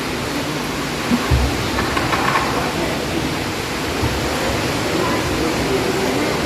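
Natural waterfall inside Harrison's Cave, Barbados, a steady broadband roar of falling water filling the space, with brief faint voices over it.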